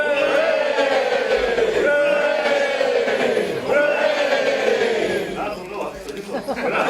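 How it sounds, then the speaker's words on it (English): A ceremonial crowd at the Chinggis Khaan Memorial Ceremony shouts hurrah in place of applause, sustained rising voiced cries repeating in waves, loud and fairly close, fading somewhat toward the end. "We'll say hurrah instead of applauding."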